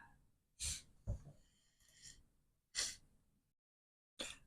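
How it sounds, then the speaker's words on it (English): A person blows a stuffy nose, with two or three loud, close, breathy bursts separated by short pauses and faint breathing, and no talk during the blowing. "Now I'm stuffing. I like blow my nose."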